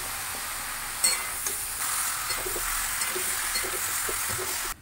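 Vegetables are sautéed in a pan for a Bengali curry. A soft, steady sizzle hisses throughout, with a few faint taps of stirring, quiet and close.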